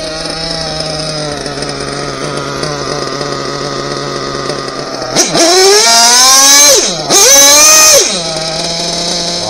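A small high-pitched nitro RC car engine, an SPOWER S6TT, idles with a buzzing drone, then revs loudly twice in sharp whining bursts before dropping back to idle.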